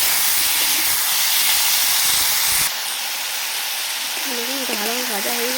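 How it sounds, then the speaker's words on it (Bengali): Potato and pumpkin hit hot mustard oil with dried red chillies and five-spice seeds in a wok, giving a loud hissing sizzle that drops to a quieter, steady frying hiss partway through, with a faint wavering tone near the end. "এবার এর মধ্যে আলু আর কুমড়োটা দিয়ে দিলাম"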